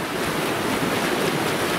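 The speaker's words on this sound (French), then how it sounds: "C'est vraiment sympa de voir tous ces ruisseaux de fonte et de les entendre constamment." Snowmelt streams flowing beside a wet, snowy mountain path in the Ariège Pyrenees in April, a steady broadband rushing of water, loud and continuous with no voices.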